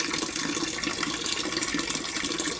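Water flows steadily through a PVC carbon filter pipe in a gold leaching setup, a continuous close splashing and gushing rush with no talk.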